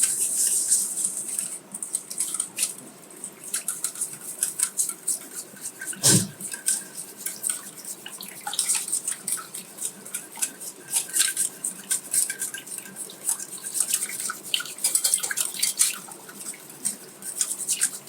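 A metal whisk beats a sugar mixture in a bowl for basan halwa, rapid scraping and clinking taps going on steadily and close by, with no talking.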